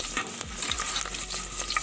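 Small kachri frying in a pan with milk nearby, a steady close sizzle with scattered crackles and a few stirring scrapes, no voices.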